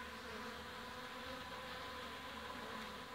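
A steady, dense buzz of many honeybees flying close by at the hive in spring, continuous and even throughout, with no voices.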